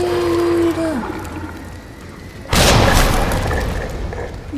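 A loud grenade blast in Resident Evil 2 Remake bursts suddenly midway, its boom rumbling and decaying over the following seconds after a quieter stretch of ambient game noise.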